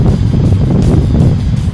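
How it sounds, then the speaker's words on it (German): Strong wind buffets the microphone outside a warehouse goods-receiving area during stormy weather, a loud, close, low rumbling roar that holds steady for the whole moment with no speech. "Ein bisschen windig ist auch."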